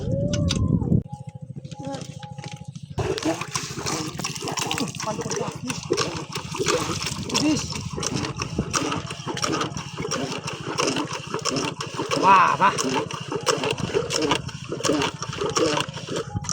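A shallow tube-well pump engine runs in a field, a steady loud chugging drone with rhythmic knocking pulses after a brief start, while rushing water and occasional voices sound underneath.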